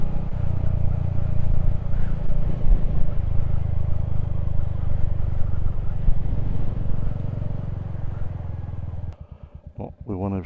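Royal Enfield Hunter 350 motorcycle fitted with a 16-tooth sprocket, accelerating in fourth gear with a loud, steady, close engine drone and rumble that eases off abruptly near the end.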